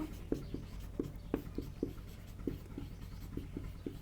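A pen writes notes on paper with soft, close scratching strokes and tapping touches at an irregular rhythm, heard alone over a low hum.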